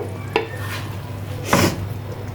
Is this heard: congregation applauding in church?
no